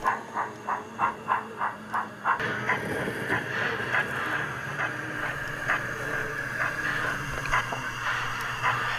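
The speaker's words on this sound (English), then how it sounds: "the Tipsfield service pulls into the bay platform, drawn by a BR Standard Class 2" An O scale model train led by a BR Standard Class 2 locomotive, modified for push-pull running, pulls into a bay platform. It starts with a quick run of regular chuffs, then settles into a continuous hiss and rumble.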